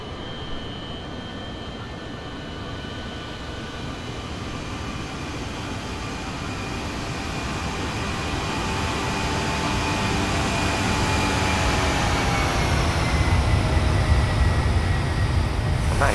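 An airliner takes off in Microsoft Flight Simulator, with a steady jet engine roar that slowly builds in loudness and rising turbine whine throughout, without any talking.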